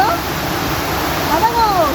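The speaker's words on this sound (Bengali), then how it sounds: "দেখো শুধু ওই ওপর থেকে জলটা যাচ্ছে এখানে।" Water pouring down from above into a rocky gorge, a steady loud rushing roar close by, with faint voices and a brief whistling tone over it.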